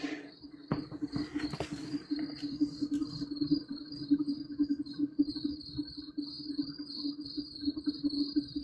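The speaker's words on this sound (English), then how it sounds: "can you ask your crickets to calm down?" Crickets chirp steadily in a continuous high pulsing trill, with a low steady hum underneath and a brief rustle near the start; no voices.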